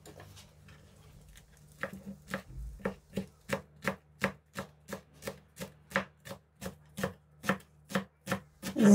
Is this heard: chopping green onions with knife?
yes